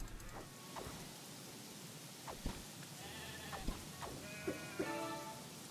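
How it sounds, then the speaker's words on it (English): Sheep in the video game Craftopia bleat several times, short wavering cries scattered over a steady soft hiss of game ambience, moderately close and fairly quiet, with no talk. "here are the sheep"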